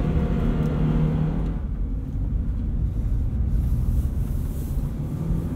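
A Subaru BRZ driving in sport mode with a steady low road rumble and engine drone from inside the cabin, continuous and fairly loud.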